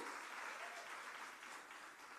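Applause from a crowd fills the space, a dense, even wash of clapping that tapers slightly toward the end.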